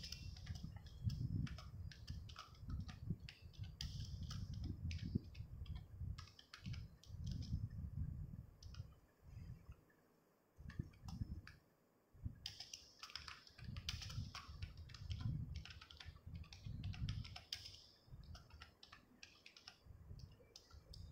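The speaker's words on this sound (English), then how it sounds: "With the help of keyboard you can type the text." A computer keyboard clatters with quick bursts of keystrokes in an uneven rhythm, close and fairly quiet, with short pauses between runs of typing and no talk.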